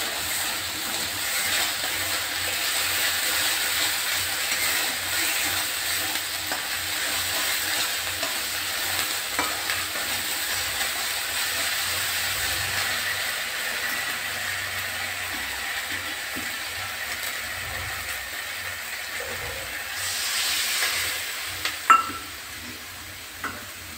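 A thin Murala fish curry with red chili powder bubbles in a pan, giving a steady low simmering sizzle with faint stirring and a few clunks near the end, and no talk.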